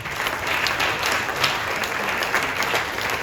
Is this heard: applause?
yes